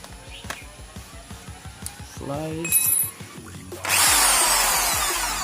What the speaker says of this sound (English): So let's try to drill it out.